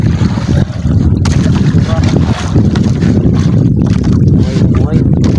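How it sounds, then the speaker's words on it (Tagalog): Strong wind blowing over a small fishing boat at sea during longline fishing, a loud, steady broadband rush of wind buffeting the microphone that never lets up across the whole stretch. "pero medyo mahangin na talaga mga idol"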